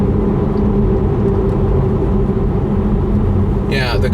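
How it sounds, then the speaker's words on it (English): A Tesla Model 3 electric car rolls along the road with weak regenerative braking, heard from inside as a steady low rumble and tyre hum, with a brief higher whir at the end. "the car is rolling much more than when regenerating braking is more active"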